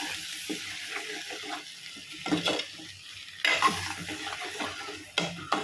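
Ground almond paste masala is sautéed in a pan, with soft sizzling under repeated scraping and stirring strokes of a spoon against the metal, close and uneven in rhythm, and no talking.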